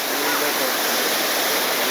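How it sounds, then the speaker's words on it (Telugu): The Gandahati waterfall in Odisha roars with a steady, dense rush of falling water, loud and unbroken throughout. "ఓ మై గాడ్ బ్రో, అదే వాటర్ ఫాల్స్."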